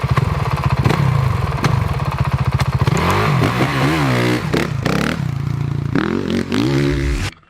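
A small Honda CRF motocross dirt bike engine runs loud and close, a buzzy idle rising into several sharp revs and throttle blips before cutting off abruptly at the end.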